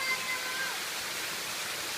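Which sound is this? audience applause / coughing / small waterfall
small waterfall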